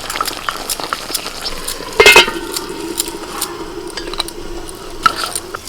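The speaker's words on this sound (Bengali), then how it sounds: "পাঁচ মিনিট ঢাকা দেওয়ার পর একটু নাড়াচাড়া করে দিচ্ছি" Chicken cooking with vegetables in a covered pan, stirred with a spoon: close scraping and clinking against the pan, one louder clatter, over a steady low sizzle, with no talk.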